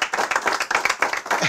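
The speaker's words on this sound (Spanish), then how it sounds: "para la cual pido un aplauso." A cycling team claps and applauds its stage winner, indoors among riders, in a steady burst of close, dense hand claps with no talk over it.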